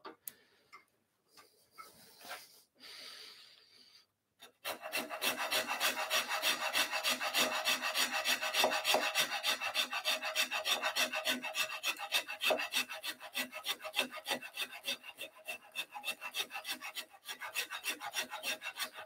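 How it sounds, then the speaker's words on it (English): A microplane rasps across carved wood turning on a lathe, a steady run of fast scratchy strokes close by, after a few seconds of quieter scraping. "Again, using that microplane,"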